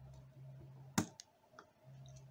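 A plastic Transformers Studio Series Dropkick toy part, the helicopter lower section, snaps into place with one sharp click, followed by a couple of fainter plastic ticks over a low steady hum.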